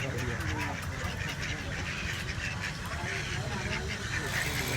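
Ducks quack and honk in a dense, steady flock at a safari park, heard continuously close by amid crowd chatter and outdoor bustle.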